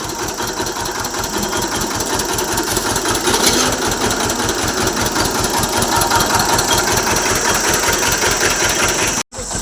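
An engine-driven juice machine runs at a street cart beneath a bridge, a loud, close, rhythmic chugging that pulses evenly for the whole stretch before dropping out for an instant near the end.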